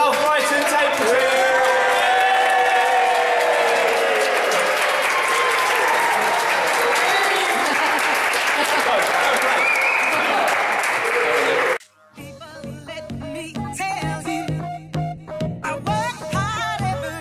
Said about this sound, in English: Taylor, Bill and Caroline are going to cut the green ribbon and everyone's going to clap.